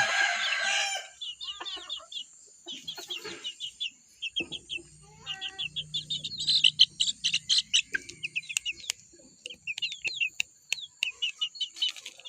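Chickens and roosters at dawn: a rooster crows loudly near the start, followed by many rapid clucks and chirps from several birds, close and busy with short pauses between bursts.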